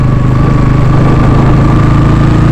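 A vehicle engine runs steadily on a snow-capped mountain road in North Sikkim, a loud, constant low drone with no change in pitch and no voices.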